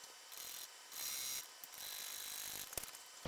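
A sewing machine stitches the side seams of a fabric bag at a 3.5 stitch length, running in short, faint bursts of mechanical whirring separated by brief pauses.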